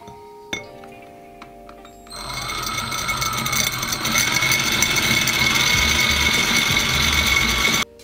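A power drill bores a drainage hole through a glazed ceramic plant pot, starting after a short quiet lead-in and then running steadily and loudly with a harsh, high grinding whine that continues almost to the end.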